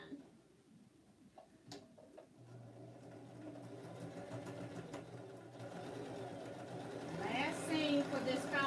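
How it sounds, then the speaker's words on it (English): A sewing machine stitching a quarter-inch seam on a quilt block runs with a steady hum after a few clicks, with a voice talking over it. "I'm going to just sew a quarter and seam from the top"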